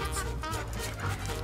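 German shepherd dogs bark and yip in a park, a few quick close barks mixed with whimpering over busy outdoor background.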